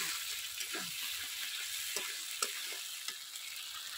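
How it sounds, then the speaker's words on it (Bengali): Masala for egg malai curry frying with coconut milk in a pan, giving a soft, steady sizzle broken by occasional clicks and scrapes of stirring, with no voices. "এইভাবেই যতবার মশলাটা কষাবো নারকেলের দুধটা দিয়ে দিয়ে কষাতে হবে।"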